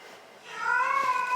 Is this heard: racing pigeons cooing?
no